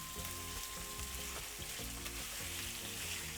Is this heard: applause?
no